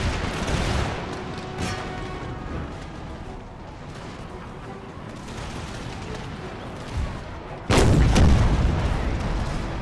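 Artillery guns open fire in an Empire: Total War battle, heavy booming volleys rumbling over continuous battlefield noise, with a loud close blast near the end.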